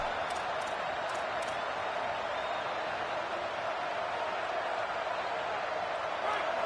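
Home crowd at a football game roaring steadily as the defense faces 3rd down, a dense, sustained wash of cheering with a few brief whistles near the start and no pauses.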